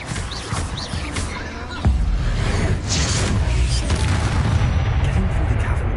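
A Bombarda explosion spell blasts in Hogwarts Legacy, a deep booming burst at about two seconds that leaves a loud rumbling wash of low energy behind it, with busy game effects around it.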